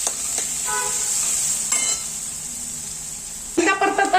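Onion and peas sauté in a pan for puri bhaji, giving a steady hiss of sizzling with a few clanks of the spoon stirring, sharper scraping near the end, and someone talking over it.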